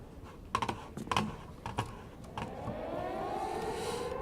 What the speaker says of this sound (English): when do you think is the best time to move after hearing a storm siren?